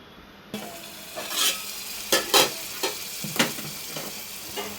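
Food frying in a pan over a low flame for pesara pappu egg curry, with a steady soft sizzle and a few scraping stirs of a spoon against the pan, close and fairly quiet.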